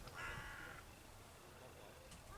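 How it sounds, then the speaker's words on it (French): A single drawn-out caw from a crow outdoors in late summer, moderately distant and fairly faint, followed by quiet background rumble. "Tu entends les corbeaux?"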